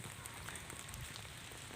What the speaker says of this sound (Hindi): बारिश यूपी में ज़बरदस्त तरीके से पड़ रही है